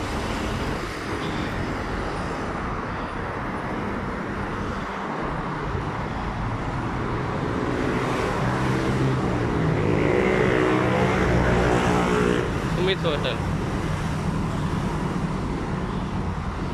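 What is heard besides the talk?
road traffic in Malaysia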